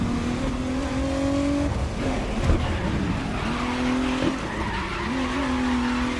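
Race car in GRID Legends drifts under the handbrake, tires squealing in long sustained tones over a steady engine roar, with a couple of brief squeal bursts spread across the run and no talk.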